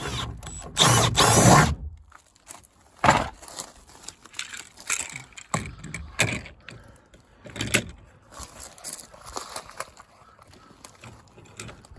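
A power drill drills holes in a sit-on-top kayak, whirring in short bursts between clanks and handling noises, with a loud burst of rattling at the start.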